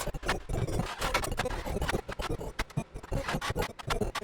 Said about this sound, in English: And the granulated wine glass sounds like this.